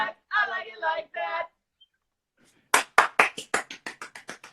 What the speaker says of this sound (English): And the crowd went one clap.